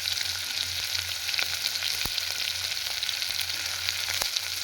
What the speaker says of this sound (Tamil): பச்சை மிளகாய், வெங்காயம் எல்லாத்தையுமே நான் போட்டேன். இப்போ நான் வதக்குறேன் பாருங்க.